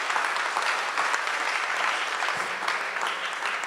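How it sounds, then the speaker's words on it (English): A room of people at a public oversight board meeting applauds steadily and evenly for a few seconds, a dense wash of many hands clapping with no voices on top. "Can we give her a round of applause?"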